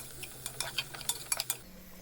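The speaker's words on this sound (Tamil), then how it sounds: "இப்போ இதில் ஒரு 5-6 பல் பூண்டு இடித்து வச்சுருக்கோம், அதையும் போட்டு நல்லா வதக்கிக்கோங்க" Crushed garlic and chillies being sautéed for a tiffin sambar: a spoon scrapes and taps the pan in quick irregular strokes over a faint, soft sizzle, close and fairly quiet.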